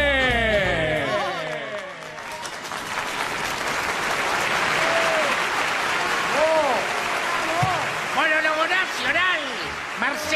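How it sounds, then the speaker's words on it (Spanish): A studio audience at a televised tribute event bursts into sustained, loud applause to welcome a guest on stage, a dense wash of clapping with voices and cheers mixed in throughout. "aplauso para recibir al señor Tato Pares."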